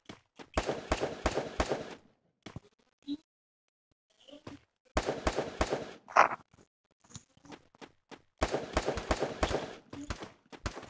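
Video game gunfire crackles in three dense bursts of rapid shots, with scattered single pops and quiet gaps between them, and no voices over the firing.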